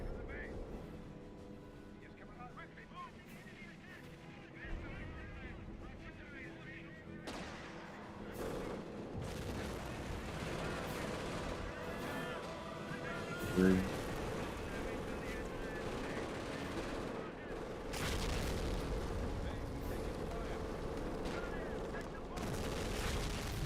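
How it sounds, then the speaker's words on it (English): A preemptive artillery barrage in a war strategy game arrives as a low, distant rumble of shell impacts and crackling gunfire. A heavier burst of explosions comes later, and someone talks over it throughout. "Preemptive barrage there."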